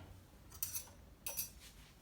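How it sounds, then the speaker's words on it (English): Metal cutlery and a knife clink as they are picked up off a kitchen counter, two quiet clattering bursts about half a second apart, close by, with no talk over them. "We're going to grab a knife."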